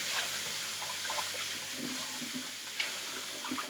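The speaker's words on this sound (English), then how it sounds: "So I'm going to add another set of water here." Water poured into a bowl to wash scaled fish in a kitchen, a steady splashing rush that runs continuously at close range, with no talking.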